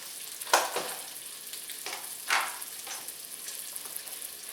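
Nathan's hot dogs sizzling in a hot pan, a quiet steady hiss with a few soft pops and bursts of crackle, heard alone and fairly faint.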